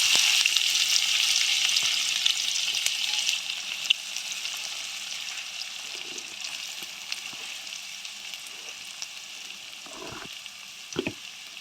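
Chopped onions frying in a pan with fennel seeds for a meal maker masala curry, a steady bright sizzle with occasional stirring scrapes and taps, close and alone.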